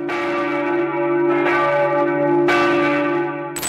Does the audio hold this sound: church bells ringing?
yes